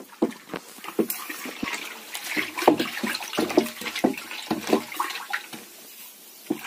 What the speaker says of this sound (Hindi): अब गोबर गोमूत्र को इस तरह से डंडे के सहायता से हम इसको मिला लेंगे।